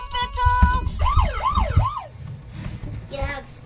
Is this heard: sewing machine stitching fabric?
no